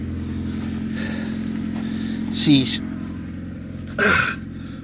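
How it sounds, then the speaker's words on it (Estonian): A car engine idling in cold weather while it warms up, with a steady low hum and harmonic drone throughout, heard close under short spoken words and a couple of brief louder breathy sounds. "Laseme mootori löösta soojaks minna."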